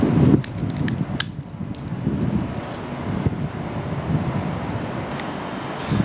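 Steady gusty wind rushes and buffets the microphone outdoors beside a small wood stove fire, with faint rustling and no voices.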